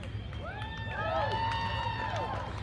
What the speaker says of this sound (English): and they are cheering